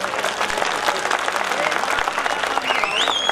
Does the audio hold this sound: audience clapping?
yes